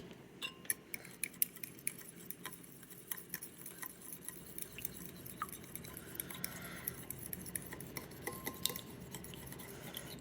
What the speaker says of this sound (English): And then we're going to beat the eggs.